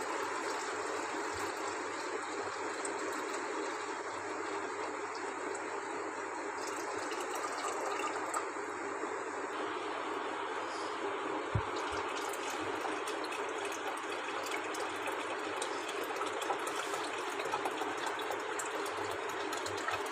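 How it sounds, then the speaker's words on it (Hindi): Water runs steadily into the water can of a Silver Star ES-300L gravity electric steam iron, a loud, continuous close gushing stream with faint mechanical clicks, lasting the whole stretch with no talk. "ये हमारा पानी जा रहा है इसमें।"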